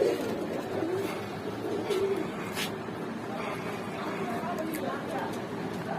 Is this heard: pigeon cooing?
yes